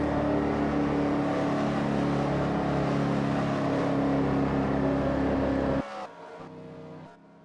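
A racing powerboat at a Kentucky race with a badly faulty engine, droning loud and steady with a rough, uneven tone for about six seconds before dropping off sharply into quieter sputters.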